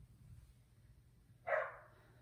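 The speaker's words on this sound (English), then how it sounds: "And my dogs are going to bark, so it's fine." A single short dog bark sounds from some distance in a quiet indoor room during a yoga class, rising briefly over faint low background hum.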